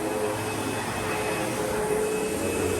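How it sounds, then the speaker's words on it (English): A vacuum cleaner runs in a jail lobby, its steady, loud whining roar filling the space without a break and no voices over it. "I'll be out of here in a minute, especially now that she's vacuuming."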